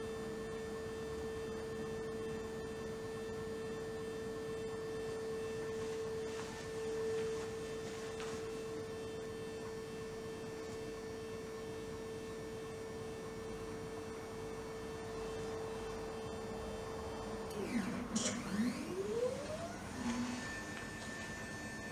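An automatic consolidation test machine runs under a steady electrical hum, then its motor whines and sweeps up and down in pitch as the loading frame drives to its upper limit and reverses.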